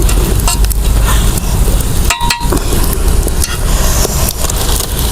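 A spoon scrapes and stirs melting soap base in a pan on a stovetop, a steady coarse swishing with a brief pause midway, loud and close, no voice present.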